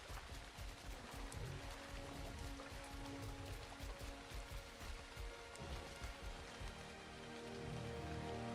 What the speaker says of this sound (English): Rains constantly.